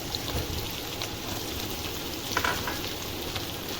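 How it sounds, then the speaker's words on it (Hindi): Cabbage, capsicum and onion fry with garlic in a pan, a close steady sizzle with a brief burst of stirring near the end. "अब इन सबको हमें भूनना है।"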